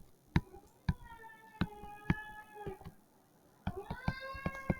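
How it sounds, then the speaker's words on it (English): A domestic cat indoors at home meows repeatedly, about eight distinct close calls in a loose rhythm with a brief pause before the last few, over a quiet room. "while I'm recording this at home, you might hear my cat"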